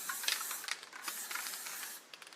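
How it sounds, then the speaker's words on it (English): Spray chalk paint hisses from an aerosol can onto a wicker table in bursts of varying length, close and bright, ending in a few short sputtering puffs, with no talking. "you can see the distance that I'm spraying from"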